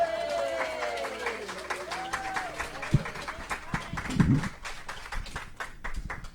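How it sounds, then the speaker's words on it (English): Scattered applause from an audience after a live musical performance, light claps mixing with a voice talking and some crowd murmur, moderately faint and irregular. "Let's give Ryan another round of applause for giving us some wonderful music here today"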